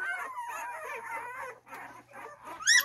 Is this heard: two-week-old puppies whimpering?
yes